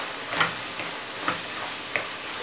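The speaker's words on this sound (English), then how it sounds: "Give it another stir." A spoon stirring spaghetti bolognese sauce in a pot, three soft scraping strokes at a steady rhythm over a faint background sizzle, close and quiet.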